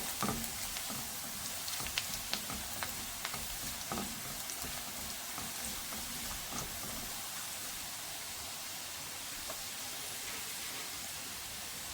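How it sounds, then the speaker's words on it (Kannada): Finely chopped onions frying in oil in a home kitchen pan for ridge gourd masala, a dense, steady sizzle with scattered crackles and pops throughout, close and continuous with no talk. "ಈಗ ಈರುಳ್ಳಿ ಸಣ್ಣ ಹೆಚ್ಚಿಟ್ಟಿದ್ದೀವಲ್ಲ ಅದನ್ನು ಹಾಕೋಣ"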